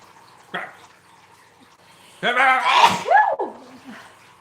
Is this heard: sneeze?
yes